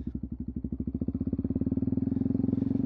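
Motorcycle engine idling up under a light throttle, its close, steady pulsing firing beat quickening gradually as it gently accelerates, with no talk over it.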